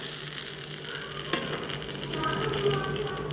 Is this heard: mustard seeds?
yes